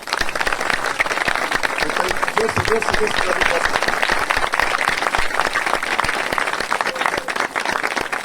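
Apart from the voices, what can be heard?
audience clapping loudly on request at a church service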